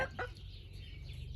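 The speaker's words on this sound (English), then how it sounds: "we do have a variety of beautiful hens all around us here in the coop" Hens cluck softly in a coop, a faint murmur of low calls set against a steady background hum.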